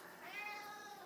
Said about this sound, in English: that's my cat, Lazy Bones.